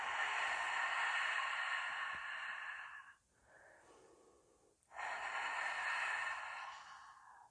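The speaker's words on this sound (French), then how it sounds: "J'inspire, j'expire." Slow, steady breaths drawn in and pushed out during a beginner Pilates exercise, two long broad breath sounds separated by a brief quieter pause, close and alone with no talking.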